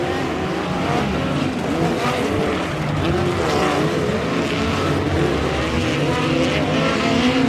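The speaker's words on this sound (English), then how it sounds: "As we've got a car spinning and coming to a stop" Midget race cars roar around the Airport Raceway track in a POWRi West league race, one car spinning to a stop. The loud, dense engine noise runs without a break, with possible tire scrubbing and no speech.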